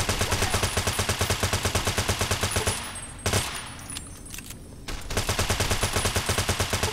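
Rapid automatic gunfire in the video game Fallout: New Vegas, loud dense bursts that stop abruptly for about two seconds, with a single shot in the gap, then resume at the same steady pace.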